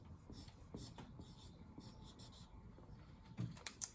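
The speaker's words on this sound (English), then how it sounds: "I will write it." A teacher writes a color word on a classroom board during an art lesson, a few faint scratchy strokes at a low level with a little soft breathy background.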